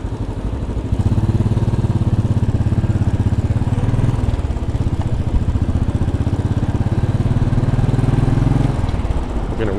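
A Royal Enfield Bullet 500 motorcycle rides through New York City between Brooklyn Bridge and Park Slope, its single-cylinder engine thumping loud and steady close to the mic, with a faint low hum at the start before it settles into a constant pulse.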